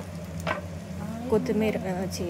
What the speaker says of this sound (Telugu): ఇప్పుడు ఎగ్ అంతా కొంచెం లైట్గా ఫ్రై చేసుకోండి.